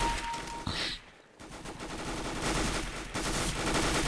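Gunfire aimed at the player in a CS:GO match, bursts of rapid shots and machine-gun rattle cutting in after a brief hush, loud and close.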